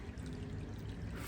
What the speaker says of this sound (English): It took us 7 minutes to fill it up this container, 5 gallons of water.